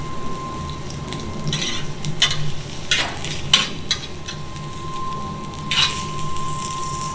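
Onions hiss and crackle as they fry alongside köfte on a street-food griddle in İzmir, a steady close sizzle broken by scraping spatula strokes and clatters, with no talking.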